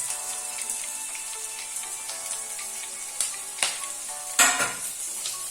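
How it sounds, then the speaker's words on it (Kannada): Cumin and coriander fry over a low flame in a pan for a jackfruit seed and banana curry, a steady soft sizzle with a few sharper stirring scrapes and clinks near the end, no talk. "ಚೆನ್ನಾಗಿ ಫ್ರೈ ಆಗಿ ಲೋ ಫ್ಲೇಮಲ್ಲಿ ಇಟ್ಕೊಳ್ಬೇಕು"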